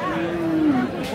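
A Friesian cow at a cattle market lets out a single short, loud moo close by, a drawn-out low call against background crowd noise.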